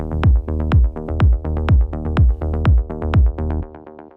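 A synth bass line with auto pan, delay and EQ pulses in a steady groove of about eight punchy, decaying notes, each trailed by softer echoes, loud and alone.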